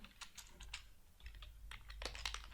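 Steady rapid keystrokes on a computer keyboard as CSS border-radius code is typed, close and clear with uneven clusters of clicks and no voice.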